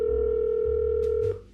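A steady telephone dial tone hums on an in-game phone line in a Nancy Drew mystery game, holding continuously with faint low clicks underneath before it cuts off abruptly near the end.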